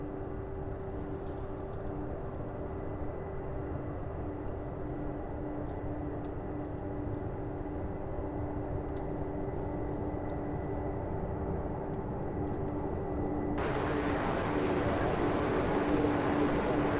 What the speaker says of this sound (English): We have this MD-11 taxiing now, giving us some awesome sound